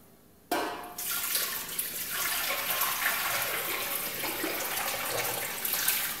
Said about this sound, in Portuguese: Vamos colocar mais uns 2 litros de água.